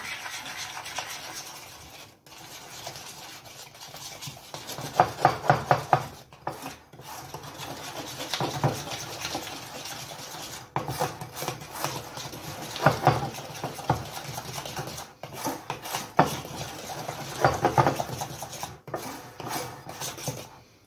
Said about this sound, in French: vous allez mettre votre œuf. Vous mélangez bien.